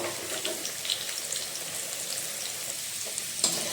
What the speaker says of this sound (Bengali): এবার এখানে আমি আলু ভেজে নেব।